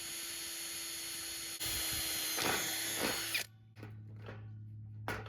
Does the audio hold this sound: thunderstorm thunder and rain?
no